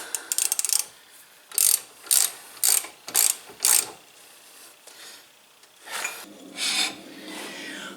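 A ratchet snugs down front brake caliper bolts on a 1985 Corvette during a rotor and pad job: a fast burst of clicks, then several separate ratcheting strokes, close and alone.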